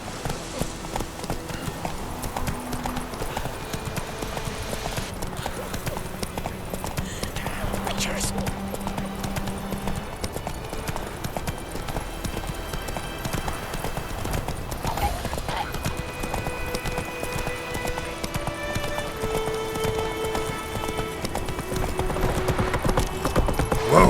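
Hooves of Roach, the horse in The Witcher 3, pounding in a steady galloping clip-clop rhythm for the whole stretch, with game dialogue voices and ambient music layered over it and the hoofbeats growing louder toward the end.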